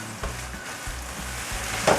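Ground beef fries in a pan, a steady crackling sizzle with soft rhythmic scraping strokes of stirring, moderately quiet and close, with no one talking.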